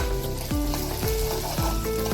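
Crushed ginger garlic paste fries in a pan with a loud, continuous sizzle, broken by a few quick scraping stirs at a regular pace.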